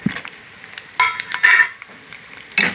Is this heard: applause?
no